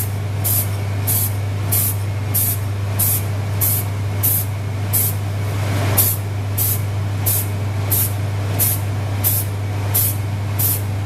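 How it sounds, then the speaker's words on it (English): Spray paint applied to a model in a spray booth: repeated short hissing bursts in a steady rhythm over a constant low hum of booth extraction, loud and close with no voices. "Sometimes I'm spraying from left to right,"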